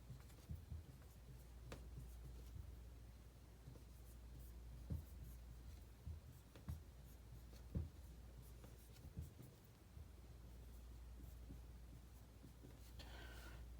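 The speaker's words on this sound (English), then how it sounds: "let's write it down." Pen writing a calculus power-rule formula on paper, soft scratchy strokes with light taps and pauses, quiet and close throughout with no talking.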